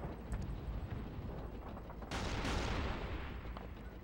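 Anti-aircraft gunfire and artillery in the World War II shooter Call of Duty 2 make a dense, roaring barrage, with a loud blast surging about halfway through and then easing back into steady rumbling fire.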